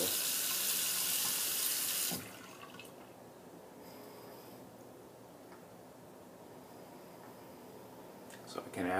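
Bathroom sink tap running, first at a louder rush for about two seconds, then turned down to a soft, steady trickle that continues faintly to the end.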